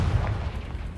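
A Confringo blasting spell explodes in Hogwarts Legacy. It lands as a single deep, booming burst with a low rumble that fades over about a second.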